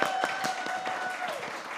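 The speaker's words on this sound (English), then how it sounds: "Round of applause." Brief applause from a live festival audience, a soft steady patter of many hands clapping for a volunteer, heard alone at a moderate distance.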